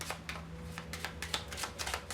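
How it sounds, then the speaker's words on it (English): A deck of playing cards is shuffled by hand at a poker table, quick repeated riffling bursts in a steady rhythm, close and crisp, with no speech over it. "So the deck is legitimately shuffled."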